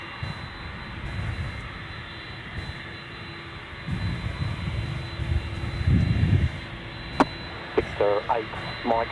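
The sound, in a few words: Brunei Boeing 767-200ER jet taking off at Gold Coast Airport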